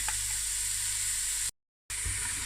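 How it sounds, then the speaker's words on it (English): Garlic sizzling in a pan for spaghetti bolognese, a steady close frying hiss broken by a brief total dropout before the sizzle resumes. "Add the garlic."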